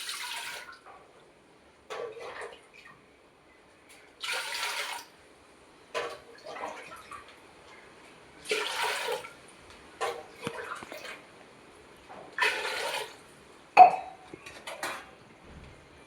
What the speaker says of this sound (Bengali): এবার আমি ডুমুরটাকে সেদ্ধ করে নেব। তার জন্য আমি দিয়ে দিচ্ছি জল।